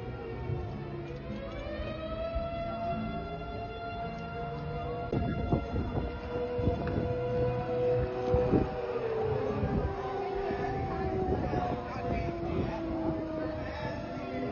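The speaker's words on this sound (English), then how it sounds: "The sound of tornado sirens scares me." Tornado sirens wail outdoors, long rising and falling tones sounding steadily in the distance while occasional knocks and handling noises land close by.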